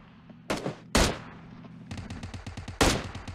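Gunfire in PUBG Mobile: several loud, sharp shots in quick bursts, with rapid automatic fire rattling through the middle and a final heavy blast near the end.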